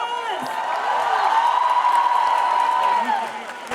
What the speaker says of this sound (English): Congratulations, everyone. Give yourselves a big round of applause.